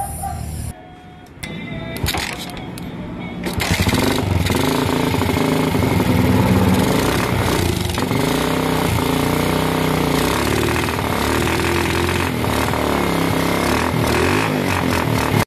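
A motorcycle fitted with a converted 4-pin CDI, which has trouble starting, is kick-started close by. A few seconds of clatter give way to a loud, steady mechanical churning rumble.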